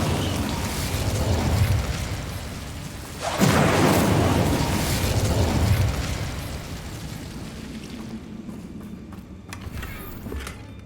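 A fire spell bursts in Hogwarts Legacy with a loud whooshing explosion that swells and roars for a couple of seconds before fading, set over a busy clattering game soundscape with faint sharp ticks toward the end.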